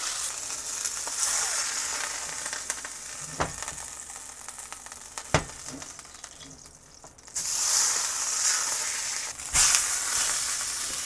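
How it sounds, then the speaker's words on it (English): A beef roast sears in a hot pan before going into a crockpot, giving a steady close sizzle with a few sharp pops and a louder burst of spitting near the end. "I'm going to sear that off."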